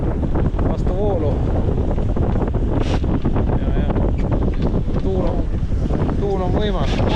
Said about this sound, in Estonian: Tuul on võimas.